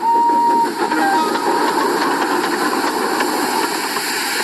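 Animated steam tank engine puffing along with coaches, a hissing, rumbling chuff with a short whistle-like tone at the start, loud and continuous without talk.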